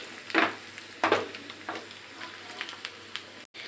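Egg bhurji fries in a pan, soft continuous sizzling broken by several louder scraping stirs of a spatula, quiet and close with no talking.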